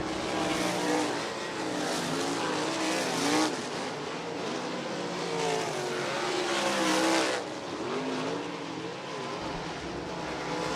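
USAC sprint cars run hot laps on the dirt oval at Ocala Speedway, engines roaring loudly and continuously with rising and falling revs as cars pass by.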